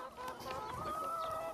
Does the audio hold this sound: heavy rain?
no